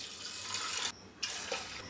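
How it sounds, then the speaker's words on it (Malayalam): Water poured into a pot of jackfruit seed and tomato curry, a quiet steady splashing stream that breaks off briefly and then resumes. "ഇനി ഇതിലേക്ക് നമുക്ക് ആവശ്യത്തിന് വെള്ളം ഒഴിച്ചു കൊടുക്കാം."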